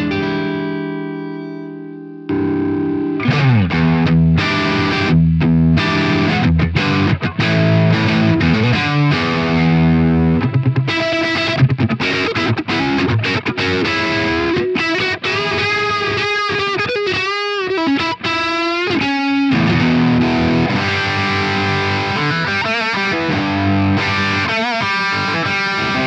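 An electric guitar plays through an overdrive pedal into a Plexi-style amp, gritty distorted notes and sustained chords ringing out, loud and close with no voices over it.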